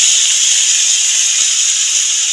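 Grated tomato hitting hot oil tempered with nigella seeds, producing a loud, continuous bright sizzling hiss that holds steady from start to finish, close up, no voices.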